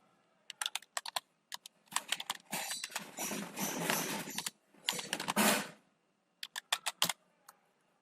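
Fingers type on a computer keyboard in quick bursts of clicking keystrokes, separated by short pauses, with one longer dense run of typing in the middle; close and clear with no talking.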